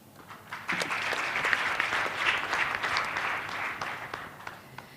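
A conference audience applauds the panelists, a dense burst of clapping that swells, holds and tapers off over a few seconds with no talk over it.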